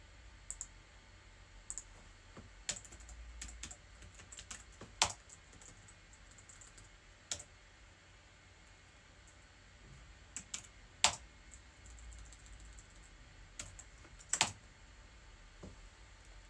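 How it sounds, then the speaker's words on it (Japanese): Typing on a computer keyboard: quick, irregular clusters of light key clicks with a few sharper taps, close and fairly quiet, no voices. "久しぶりに編集してるけどタイピング力は劣ってなかったね"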